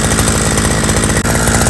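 A Patriot PT520 petrol grass trimmer engine runs steadily at close range, a loud continuous two-stroke drone with a brief dip near the end, no voices present.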